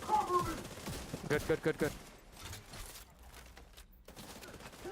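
Rapid bursts of gunfire in The Division 2 during the first two seconds, fairly faint under a player's voice, followed by quieter game ambience.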